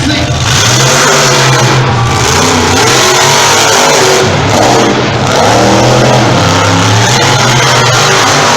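Monster truck engines roar loudly at the start line of a truck racing round at the West Coast monster truck nationals, holding a continuous heavy rumble with repeated surging revs throughout.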